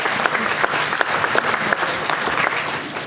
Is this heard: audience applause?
yes